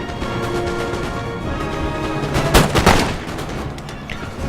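Musket volleys from a line of infantry in the video game Napoleon Total War, a dense crackling fusillade over a constant battle din, swelling into a louder burst of overlapping shots near the middle.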